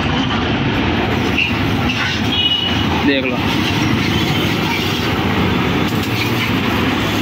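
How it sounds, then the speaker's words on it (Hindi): A high-pressure washer with a 2 HP single-phase motor and an HTP 50 pump runs at full pressure, producing a loud, steady broadband roar close to the microphone while someone speaks briefly over it. "जी आपका प्रेशर वॉशर रेडी हो गया है। 2 HP का सीमा का मोटर है, 50 नंबर का पंप"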